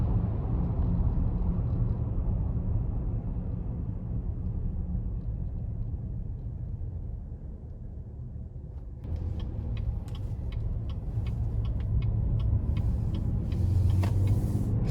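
A 2021 Chevrolet Traverse Premier Redline Edition with a 3.6-liter V6 and AWD gives a steady low engine and road rumble from inside the cabin, easing slightly midway and then rising again with a faint rattle near the end.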